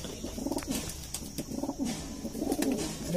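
Golden Indian high-flying pigeons with red eyes give several soft, rolling coos near at hand, mixed with light rustling and faint background noise.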